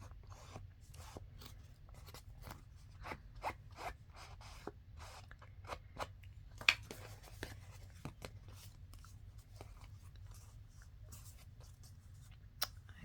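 Scissors trimming the edges of a paper index card, a steady series of short crisp snips and rasps, close and quiet over a low hum.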